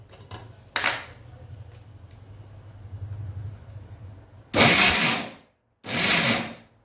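A kitchen mixer grinds ragi with cardamom and dry ginger in two loud bursts, each about a second long with a short pause between, after softer clicks and handling noise.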